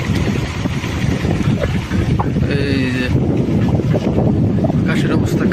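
Strong wind blows outdoors in a village in the afternoon under a stormy sky, a loud rumbling buffet on the microphone throughout, with a brief tonal whine partway and someone talking over it.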